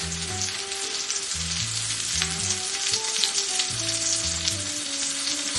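Salmon sizzles steadily in a hot pan, a dense crackling fry throughout, while soft background music plays underneath.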